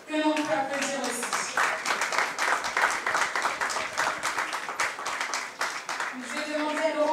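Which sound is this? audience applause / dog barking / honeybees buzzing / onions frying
audience applause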